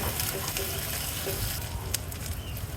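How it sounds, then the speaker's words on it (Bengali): Chopped onion sizzles in hot mustard oil, giving a constant, dense crackling hiss with occasional sharper pops, close and unbroken throughout. "সরিষার তেলটা গরম হয়ে গেলে এখানে পেঁয়াজ কুচি দিয়ে দিয়েছি"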